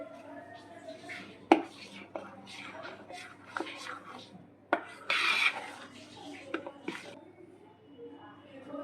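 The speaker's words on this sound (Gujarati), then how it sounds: "હવે આપણે આમાં દળેલી ખાંડ એડ કરી દઈશું, 1 કપ. મિક્સ કરી લેશું સારી રીતે." A spoon mixing powdered sugar into strawberry shrikhand in a bowl: soft scraping and rubbing strokes with a few sharp clinks against the bowl, close up, with a quiet voice at times.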